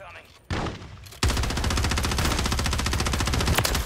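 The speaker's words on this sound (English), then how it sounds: "I hear gunshots" Rapid automatic gunfire from a Call of Duty match, a sharp burst followed by a sustained, loud stream of dense, evenly spaced shots that cuts off briefly near the end, with a faint voice underneath.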